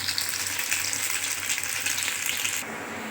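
Pea omelettes sizzle in hot oil in a pan, fried one piece at a time. A steady, close, dense frying crackle runs throughout and eases slightly near the end, with no talking.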